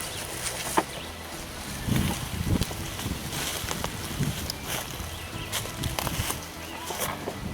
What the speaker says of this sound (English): You would have had a bullseye, but the wind blew up.